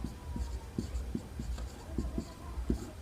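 Pen or chalk writing by hand during a Hindi math lesson on polynomials, a steady run of short scratchy strokes at close range with a low background hum and no talking.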